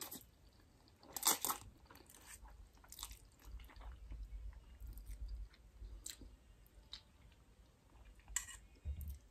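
Chewing spicy bibimbap with tomato at close range, soft wet crunches and mouth sounds scattered across a quiet stretch, with a few sharper bites standing out.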